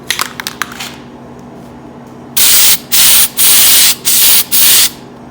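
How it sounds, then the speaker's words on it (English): Several loud bursts of spray paint hissing from a can, each lasting about half a second with brief gaps, following some quiet rattling. "I'm gonna go ahead and start spraying this"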